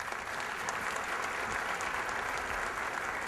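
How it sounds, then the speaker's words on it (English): Audience applause for an elementary school choir at a city address, a dense, steady clapping of a large crowd heard from a moderate distance, with no talk over it. "give a round of applause to Craig Elementary"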